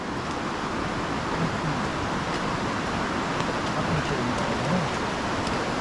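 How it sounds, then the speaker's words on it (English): Steady, rough broadband rush of churning river water mixed with rain hiss below Pontcysllte Aqueduct before a storm, continuous and fairly loud throughout, with no talking. "The water sounds really rough."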